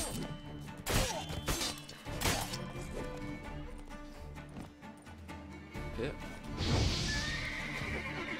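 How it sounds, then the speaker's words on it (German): A horse whinnies loudly in The Witcher 3: Wild Hunt among thudding hoofbeats and crashing impacts from combat, and someone talks intermittently throughout. "Oh ja, hier reitet noch einer mit dem Gaul rum."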